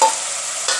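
Onions frying in a pan with ginger-garlic paste for a potato and soybean curry, a loud close steady sizzle with a brief stir near the end.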